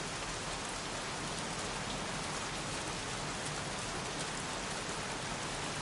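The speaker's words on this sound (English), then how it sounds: "Goddamn rain." Heavy rain from the video game Heavy Rain: a dense, constant downpour hissing evenly on surfaces, loud and unbroken throughout with no voices.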